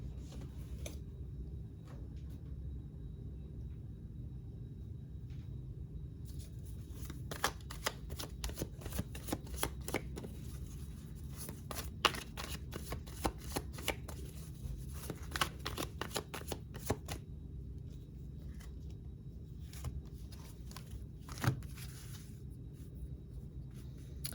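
A deck of tarot cards shuffled and drawn for a reading, long runs of rapid crisp riffling clicks and soft card slaps against a quiet room hum, pausing and resuming.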